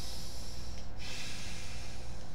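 Heavy breathing with air escaping through the nose, a close, soft hissing snort of air that rushes out steadily and fairly quietly with no speech over it.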